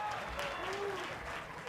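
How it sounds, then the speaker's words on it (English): Applause rises from the home crowd at Klockner Stadium during a 2023 ACC women's college soccer match between Radford and Virginia, a steady wash of clapping heard beneath a commentator's voice. "she'll receive a nice round of applause from those who've made the trip out to Klockner Stadium"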